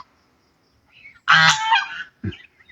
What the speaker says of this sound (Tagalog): Daming pabo dito